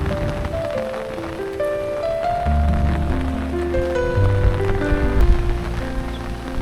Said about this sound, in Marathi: पावसामध्ये पाऊस पण खूप जास्त लागतो आणि वारा पण खूप सुटलाय वरती.